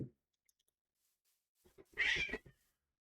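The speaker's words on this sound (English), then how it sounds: "not Garfield, Cake is messing with the senior cat" A cat lets out a short meow, then a second cat answers with a louder, strained caterwaul as a younger cat pesters an older senior cat indoors, faint at first and then fairly close.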